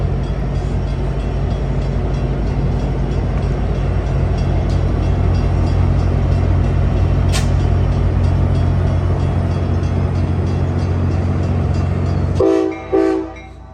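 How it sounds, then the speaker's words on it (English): An Amtrak Capital Corridor train hauled by a 2001 F59PHI locomotive departs Fremont Centerville station toward San Jose, with a loud, steady low rumble and roar close by, a brief high whistle-like tone midway, and a drop-off near the end. "Amtrak Capital Corridor Train 541 to San Jose. Now departing Fremont Centerville."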